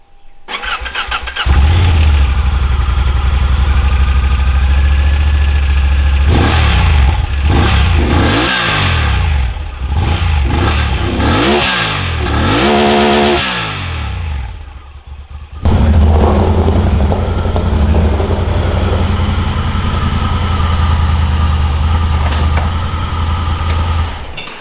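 Honda Talon side-by-side with its factory stock exhaust starts up and idles with a deep rumble, then revs repeatedly in rising and falling bursts before settling back to a steady idle, loud and close.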